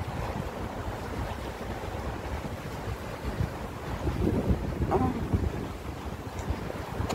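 Han River water laps against the bank outdoors like small sea waves, a continuous washing surge mixed with wind buffeting the microphone, swelling slightly midway, with no voices heard.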